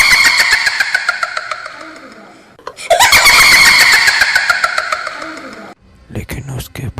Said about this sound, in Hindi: उसके बाद डैनियल ने अपनी गाड़ी की रफ्तार बढ़ाई